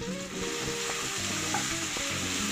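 Tomatoes sauté in hot oil in a pan for a mushroom matar gravy, giving a dense, close, continuous sizzle broken by light stirring scrapes.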